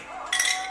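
A metal fork gives a single bright clink against a container while olives are added to Puerto Rican-style rice and beans, a short sharp tap close by in a quiet kitchen.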